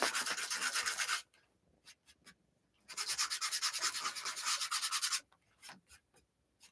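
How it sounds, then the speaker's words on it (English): Wood for an art and craft box kit is sanded by hand in two long bursts of close, rhythmic rasping strokes, with short scattered rubs and brief pauses between them. "If it gets too annoying when it comes to the sanding, I apologize in advance."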